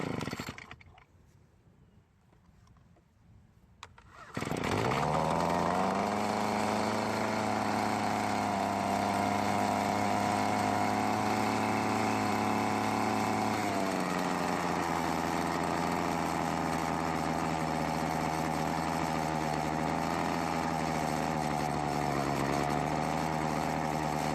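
A used Troy-Bilt leaf blower's small engine starts after a quiet moment and then runs loudly and steadily, holding a constant buzzing drone with a slight dip in pitch partway through.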